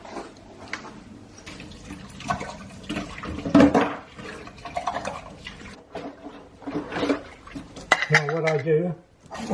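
Glass jam jars clatter and clink as they are washed in water at a kitchen sink, a steady run of knocks and rattles with occasional sloshing, close by and moderately loud.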